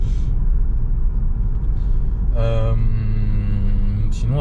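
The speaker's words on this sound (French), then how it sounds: "il y a tout le temps des petits bruits de vent" Steady wind and road rush inside a Peugeot 308 CC convertible while driving, a continuous loud low roar throughout; a brief tonal whine or voice-like sound joins briefly near the end.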